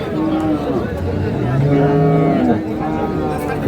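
Cattle moo repeatedly in long, low bellows, several animals calling close by over a steady murmur of crowd noise at a livestock market in Dinajpur, Bangladesh.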